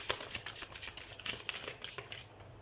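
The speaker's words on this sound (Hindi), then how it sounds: "तो सबसे पहले हम कार्ड शफल कर लेते हैं।" Tarot cards are shuffled by hand, producing soft, rapid riffling and slapping in a quick rhythm, close but fairly quiet.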